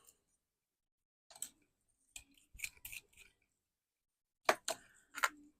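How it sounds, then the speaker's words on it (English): Scissors snip through a paper card piece in short bursts: a lone cut, then a pair, a quick cluster of crisp snips, and two final cuts, all close and quiet against silence. "Then I want to cut this out."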